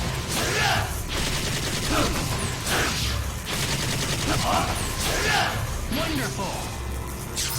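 Vergil's Devil Trigger infinite combo in Ultimate Marvel vs Capcom 3 sounds as a rapid, relentless stream of slashing hits and crashing impacts, repeating in waves, loud and continuous with game noise layered over it.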